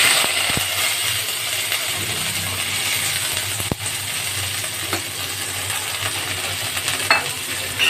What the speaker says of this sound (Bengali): বাদামগুলোকে একটু নেড়ে চেড়ে নামিয়ে নেব।